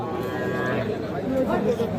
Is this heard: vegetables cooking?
no